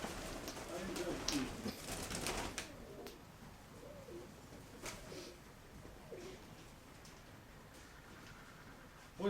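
A pigeon at a pigeon sale coos softly several times in the middle distance, while people talk over it and a few ticking sounds come through.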